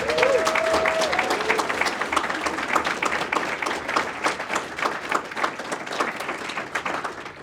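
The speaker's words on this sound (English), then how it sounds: "Would you give Russ a big round of applause?" An audience at a city climate forum applauds a chief resiliency officer, with sustained, dense clapping from a sizable crowd that continues steadily throughout before tapering slightly.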